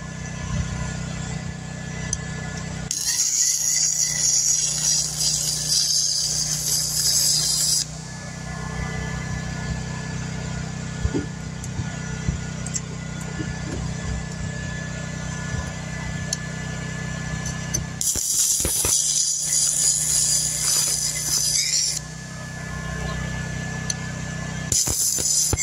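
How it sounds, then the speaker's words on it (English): Handheld 120 volt welder arcing in bursts, a harsh crackling hiss that starts and stops several times over a steady low hum, heard close and loud. "And I'm welding, I'm blowing holes."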